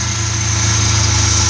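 A Devon A40 restomod car engine idles after warming up for about five minutes, producing a loud, steady, even hum with a regular low pulse and no voices.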